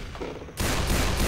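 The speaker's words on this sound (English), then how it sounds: "Stop shooting!" Rapid overlapping gunfire from several weapons in Left 4 Dead 2 during the Blood Harvest campaign, a quieter patch of shots giving way after half a second to a loud, dense fusillade that carries to the end.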